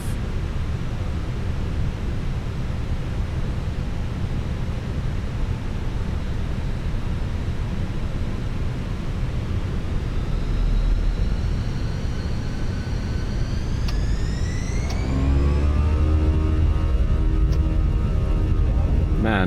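Fenix A321 jet engines in Microsoft Flight Simulator 2024 spooling up for takeoff, a steady roar climbing into rising whine tones and deepening into a loud, sustained thrust rumble.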